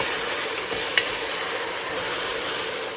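Croatian cioppino with shrimp and mahi mahi being stirred in a pot: a continuous close sizzling bubble with soft scraping of the spoon, no voices.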